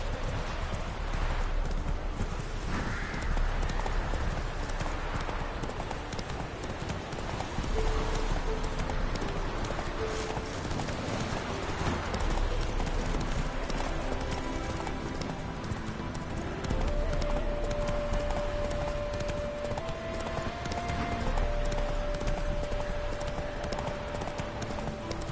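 Roach the horse trotting in The Witcher 3, hooves clip-clopping in a steady continuous rhythm close by, with game ambience and a brief tonal music line underneath.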